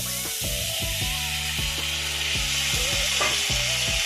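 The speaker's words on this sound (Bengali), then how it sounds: "এবার এই সাবুগুলোকে আমি এর মধ্যে দিয়ে দিলাম" Sago pearls sizzle steadily in a hot pan for a fasting-day sabu pulao while a utensil stirs them in repeated scraping strokes, close and continuous, with no talking.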